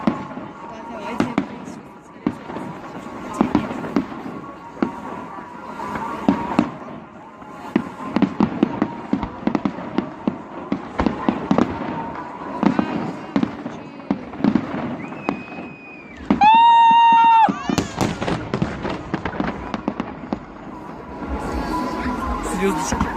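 A fireworks salute going off outdoors, with repeated sharp bangs and crackling bursts, a rising whistle and a dense fizzing flurry near the end, while onlookers talk throughout.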